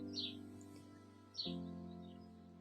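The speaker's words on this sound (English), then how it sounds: "do you hear chirping in the background? That's because my window is open" Two short bird chirps come from outside an open window in a rural area, faint and distant over a steady indoor hum, with a gap between them.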